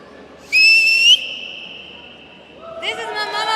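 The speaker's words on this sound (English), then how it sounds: "this is my mama whistle." A loud whistle blown at a women-in-sports awards event, one long shrill blast lasting about half a second that steps down to a lower held tone, then voices start up in the room.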